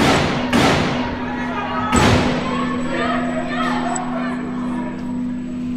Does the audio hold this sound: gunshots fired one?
yes